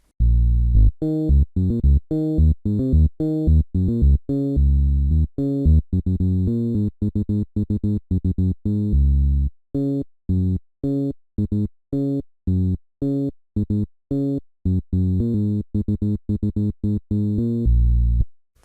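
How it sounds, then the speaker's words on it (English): A synthesized Seben bass line made in FL Studio plays a busy, rhythmic pattern of short plucked notes, loud and continuous with brief gaps, alone without voices. "And that's another type of bass in Seben."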